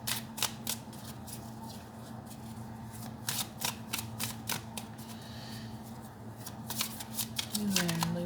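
Animal oracle cards being shuffled by hand, a rapid run of crisp flicking riffles repeating in bursts, close up, with a low steady hum underneath and a voice briefly talking at the end.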